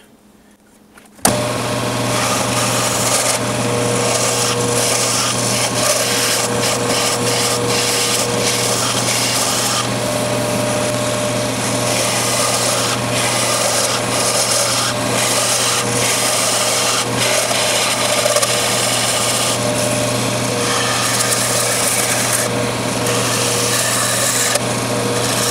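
A skew chisel takes light flattening passes on an elk antler spinning on a lathe, giving a steady, continuous scraping and rubbing hiss over the motor's hum, loud and close, running unbroken for the whole stretch with no talk.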